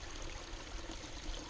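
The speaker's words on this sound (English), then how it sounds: "the water flow is pretty good from the pond" Pond water flows through a ram pump drive pipe into a bucket, a steady, close rushing gurgle with no voices over it.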